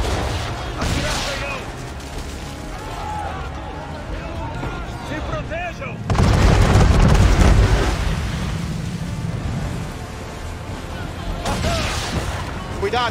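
A volley of musket gunfire and explosions in Assassin's Creed 3 Remastered, with a heavy blast surging midway among crackling shots and shouting voices, dense and loud throughout.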